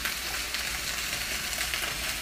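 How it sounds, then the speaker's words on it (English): Chicken and kale sausages with peppers and onions sizzle steadily in a pan as they are stirred, a soft continuous frying hiss with faint shuffling, no talk. "So I'm going to stir this up again"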